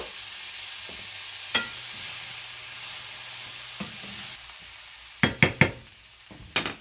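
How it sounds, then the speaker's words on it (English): A tablespoon of minced garlic frying in a pan gives a steady soft sizzle throughout, broken by a few sharp utensil knocks and scrapes against the pan, mostly clustered near the end. "first I better add my tablespoon of minced garlic. So that can cook a little bit"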